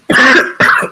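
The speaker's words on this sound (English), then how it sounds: "Having a chesty cough is not cool." Two harsh, chesty coughs from one person, close and loud, the second shorter than the first, with a brief gap between them.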